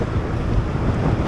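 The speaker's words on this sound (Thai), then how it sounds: "ลมแรงจริง" Strong wind buffets the microphone of a rider on a Ninebot Max G2 electric scooter on a Bangkok road, a loud continuous low rumbling roar with no talk.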